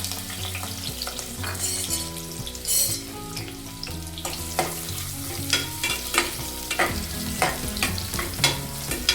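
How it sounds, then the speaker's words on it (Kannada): Chopped onion frying in hot oil in a pan for sprouts sambar, with a steady sizzle and repeated clicks of stirring at close range over background music. "ಎಣ್ಣೆ ಕಾದಿದ್ಮೇಲೆ ಒಂದು ಈರುಳ್ಳಿನ ಕಟ್ ಮಾಡಿ ಇಟ್ಕೊಂಡಿದ್ದೀನಿ, ಅದನ್ನು ಹಾಕೋತಿದ್ದೀನಿ"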